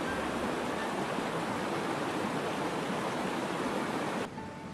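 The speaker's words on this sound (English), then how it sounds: "going down this waterfall right here" A waterfall rushes in a loud, continuous broadband roar of falling water that stays steady before cutting off abruptly near the end.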